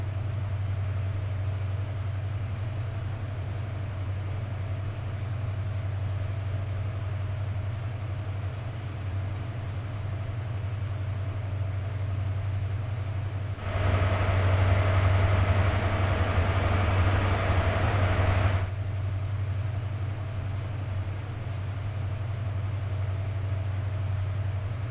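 An HST train in Train Sim World 3 on the Edinburgh to Glasgow route gives a steady low engine drone with rail rumble, swelling louder for a few seconds midway before settling back to its constant idling hum.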